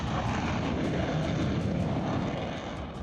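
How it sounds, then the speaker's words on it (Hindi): A fighter jet flies over the Purvanchal Expressway in Uttar Pradesh, producing a loud, continuous engine roar that holds steady for several seconds with no speech. "उत्तर प्रदेश के पूर्वांचल एक्सप्रेसवे पर लड़ाकू विमान की उड़ान।"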